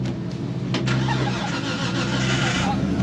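A drift car's engine cranks and fires up at a drift event, settling into a loud rough idle with a low rumble running through the whole stretch.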